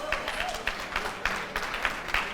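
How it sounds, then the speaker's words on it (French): A crowd at an a cappella competition claps steadily at moderate volume, a sustained patter of applause with faint rhythmic accents. "Merci d'applaudir pour Margaret pour la raccompagner."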